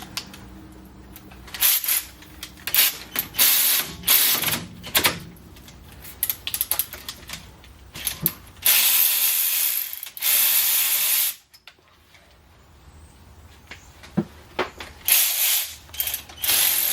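A ratchet works loose the 16 mm caliper bolts on a 2006 Ford F-350 during front brake work. Close bursts of rapid clicking come and go with short pauses between them, and no one speaks.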